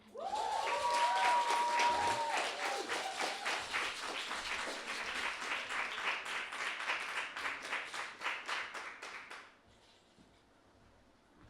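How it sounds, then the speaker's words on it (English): Audience applause at a spoken word poetry performance, a dense crowd clapping loudly and steadily for about nine seconds before fading to a quiet room with scattered hands. "Get one more round of applause."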